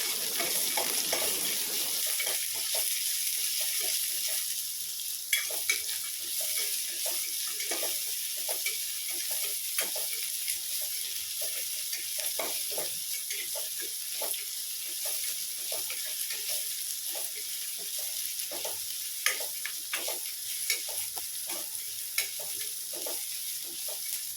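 Onions sauté in a hot pan with curry leaves, a steady loud sizzle and frying hiss broken by frequent scraping and stirring clicks, close up and continuous, with no talking.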